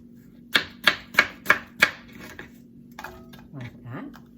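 Knife chopping Ida Red apples into a pot for homemade applesauce, five sharp, evenly spaced close knocks, followed by quieter clinks and a brief voice.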